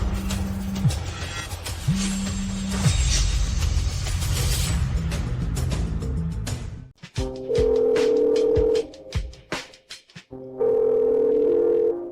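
Unanswered phone call in a drama: a repeating ringback tone pulses in long steady beeps, first low and then higher, with a noisy stretch and brief clicks between the tones.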